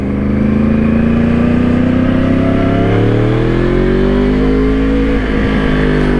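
A 2013 Yamaha R1 sport motorcycle engine revs loud and close, its pitch climbing steadily through one long pull before a brief dip near the end, with no voices over it.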